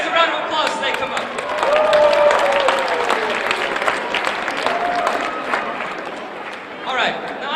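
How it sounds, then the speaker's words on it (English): Audience at a motivational talk clapping as volunteers walk up onto the stage, a moderate round of applause with voices talking over it and a tonal whistle-like sound drifting through. "give these guys a round of applause as they come up"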